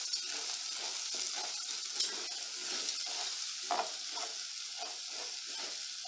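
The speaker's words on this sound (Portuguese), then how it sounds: "dar uma refogada nesse alho" Garlic sautés in a very hot pan, giving a steady bright sizzle with light stirring scrapes and small pops throughout.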